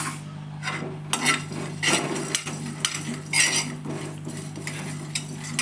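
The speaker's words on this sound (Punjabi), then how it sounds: "ਜੀਰਾ ਆਪਾਂ ਚੰਗੀ ਤਰ੍ਹਾਂ ਭੁੰਨਣਾ ਹੈ ਜੀ ਪੂਰਾ ਬ੍ਰਾਊਨ ਕਰ ਲੈਣਾ ਹੈ" Cumin seeds dry-roasting in a pan for jal jeera, stirred with a spoon: repeated scraping and rattling strokes against the metal over a steady low hum, close and moderately loud, with no voices.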